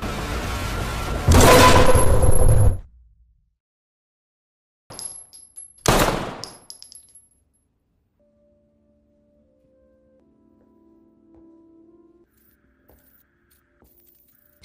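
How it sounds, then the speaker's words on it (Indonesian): Gunfire in a film scene: a loud sustained burst of rapid shots, then after a pause a couple of sharper single blasts with ringing tails, before fading into near silence with faint low tones. "Dengan cepat Sal kembali menembak Ceres berkali-kali"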